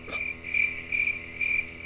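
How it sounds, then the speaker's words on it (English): Cricket chirping sound effect played on a radio talk show: steady rhythmic trills repeating about every half second, clear and prominent, with no talk over them. "I hear crickets or something."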